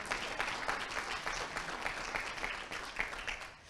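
Audience applause at a 2018 NOYDC youth talks event: dense, steady clapping from a crowd filling the room at moderate distance, without a break.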